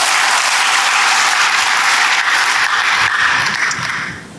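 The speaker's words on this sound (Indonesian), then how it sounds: "Berikan tepuk tangan bagi Tuhan." Loud, dense applause from a church congregation during an Ascension Day service, a continuous roar of clapping that fades slightly at the end, with no talk over it.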